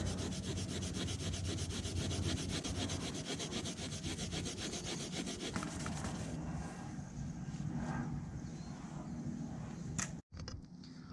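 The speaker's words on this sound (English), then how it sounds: "I'm going to give it a little harder hit with the sandpaper" Sandpaper worked hard over painted car bumper plastic during a touch-up repair, a loud continuous rhythmic rubbing close up for about six seconds, then lighter scattered strokes and a pause.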